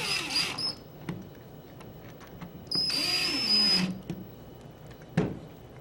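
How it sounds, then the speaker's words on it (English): Small screws being driven into the receiver of a Tippmann 98 paintball marker, with short tool whirs and clicks, two longer bursts of close, fairly quiet mechanical buzzing, and a sharp click near the end. "tighten down all your receiver screws. I'll do that real quick."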